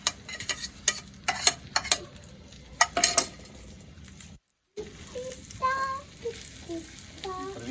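Food fries in a pan in a home kitchen, with clinks and stirring knocks in the first half, then a softer sizzle as faint voices speak in the background.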